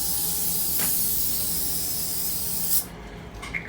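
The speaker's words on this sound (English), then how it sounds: "take some brake clean and make sure your discs are free of oil and grease" Brake cleaner sprays onto car brake discs in one long, loud, hissing blast that stops abruptly, followed by a couple of short spurts.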